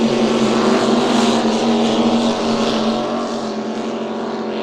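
Offshore superboat running a pair of brand-new engines at a Lake Macquarie race, a loud sustained roar that holds steady and then eases slightly as the boat passes.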